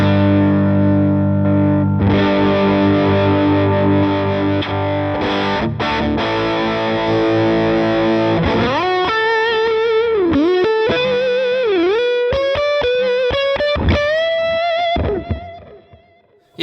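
An electric guitar plays through a Matchless amp model on an HX Stomp XL, first heavy distorted chords, then bright single-note lines with bends, close and loud with effects, and the last note cuts off abruptly.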